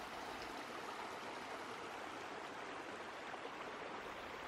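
Upper Coquitlam River, a mountain stream flowing over large rocks, giving a steady, even rushing wash of water, faint and unbroken throughout.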